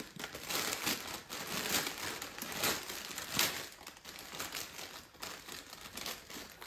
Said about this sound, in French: Je vais les ouvrir avec vous.